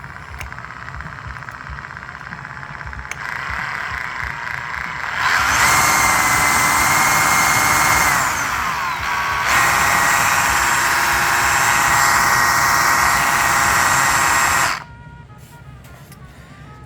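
A battery-powered Husqvarna T540i chainsaw being run with its case open during a field repair, a high electric motor whir revving up twice for several seconds each, loud and close, then stopping.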